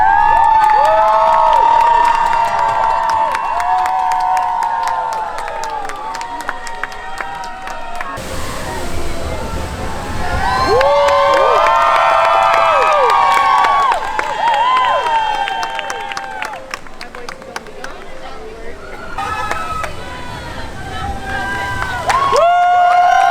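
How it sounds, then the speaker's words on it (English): Excited crowd cheering and shouting at Splash Mountain during its final hours, a loud, sustained wash of voices with whoops and calls that swells in waves, briefly dips, then rises again, with people talking throughout. "Everyone's coming down, everyone's cheering."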